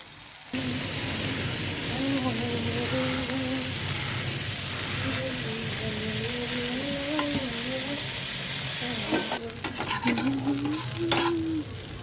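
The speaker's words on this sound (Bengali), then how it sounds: "তো এই যে পকোড়া ভাজা চলছে, মোটামুটি লাল হয়েছে, আর এপিট ওপিট করছে।" Pakoras deep fry in hot oil with a continuous bubbling sizzle, close and steady, while they are turned over; a voice hums or talks softly over it and a few utensil clinks sound near the end.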